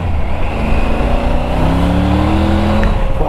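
A 2020 Triumph Tiger 900 Rally Pro engine under way, a loud steady drone with rising tones as it pulls through the revs, accompanied by wind rush.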